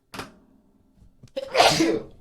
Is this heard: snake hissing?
no